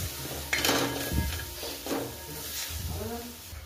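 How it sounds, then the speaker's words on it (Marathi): Masala frying in oil in a pan with okra, with a steady sizzle under repeated spatula scrapes and knocks against the pan, close and moderately loud. "तर बघा छान असा मसाला फ्राय होतोय."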